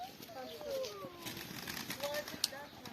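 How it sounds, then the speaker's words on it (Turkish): Outdoor birdsong with soft cooing and a brief flutter of wings as birds take off, under a faint distant voice and ambient noise. "Aa kuşlar uçtu"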